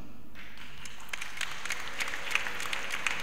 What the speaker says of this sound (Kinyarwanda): Abo yareze bahise bakoma amashyi